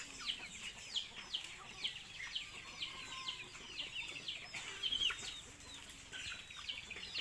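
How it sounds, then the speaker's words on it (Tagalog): Chickens on a farm, including egg-laying hens and native birds kept alongside ducks, cluck and chirp busily at a moderate distance, with overlapping calls throughout and no talking. "Ito yung mga manok na paitlogin pag lumaki."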